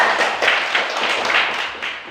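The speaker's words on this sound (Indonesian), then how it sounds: "Tepuk tangan untuk Bapak." Classroom children clap for their teacher, a steady burst of quick hand claps lasting about two seconds, fairly close and even in loudness.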